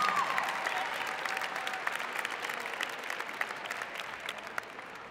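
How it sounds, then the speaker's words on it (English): Steady applause from a sizable crowd at a high school early-acceptance ceremony, dense and continuous clapping that holds at a fairly even level and tapers slightly toward the end. "Let's also give your teachers a round of applause"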